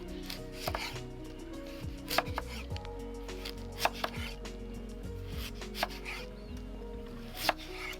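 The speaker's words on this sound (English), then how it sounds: "I'm just going to cut these up into thin little matchsticks." A knife cuts about 40 grams of carrots into thin matchsticks on a cutting board while preparing black pepper chicken lo mein. Quick, close taps and scrapes repeat steadily, with a few sharper knocks, and no talking.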